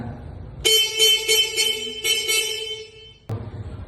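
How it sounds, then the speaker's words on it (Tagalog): A LINHAI LH50DU electric utility vehicle's horn sounds close by in a steady tone for a few seconds, with a short pulse in the middle, then cuts off. "Tapos dito po ang kanyang busina."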